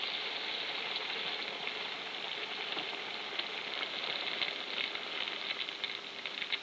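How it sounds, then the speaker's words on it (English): Bacon sizzling in a frying pan, a steady bright crackle and hiss that is continuous and moderately quiet, heard close with no voices over it. "Can you hear it sizzle?"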